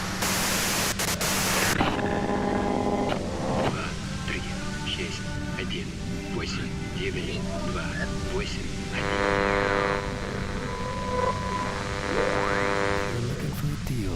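Radio static and white noise from the video game Disco Elysium hiss steadily across the whole stretch, with tonal hums and harmonic bands layered in and a voice talking over parts of it.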